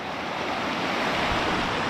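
The Hérisson river rushes steadily toward the lower Éventail waterfall in a wooded valley, a dense, continuous broadband roar of flowing water heard close and loud with no voices.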